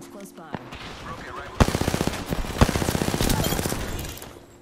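Automatic weapon fire in the battle royale game Apex Legends, a quiet burst near the start then a loud, sustained stretch of rapid shots that keeps going to the end of the clip, with no talk over it.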